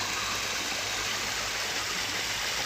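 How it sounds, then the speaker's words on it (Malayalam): Small waterfall at Chengara in Pathanamthitta, a steady close rush of falling water filling the scene without pause, with no talk over it. "ഇതാണ് ഞാൻ പറഞ്ഞ വെള്ളച്ചാട്ടം"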